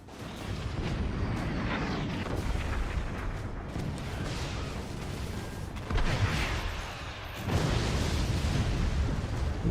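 Cannon fire and explosions in the physics-based fort-building strategy game Forts, with dense, continuous booming and crashing impacts that swell in bursts around the middle and near the end.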